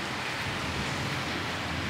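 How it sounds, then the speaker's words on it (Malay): Rain falls outside a hotel balcony in Hatyai, a soft, even wash of steady noise with no breaks and no voices. "Basah hujan."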